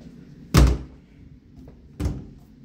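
The front door of a house in Branson gives two solid wooden thuds, one loud and one slightly softer about a second and a half later. Faint room noise fills the gaps between them.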